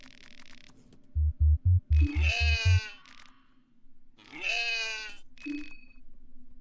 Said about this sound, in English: There's a lone goat here.